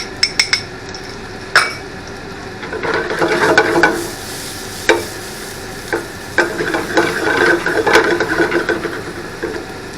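Minced garlic fries in a pan with a mushroom tortellini dish underway, a sizzle broken up by repeated sharp utensil clinks and scraping stirs against the pan.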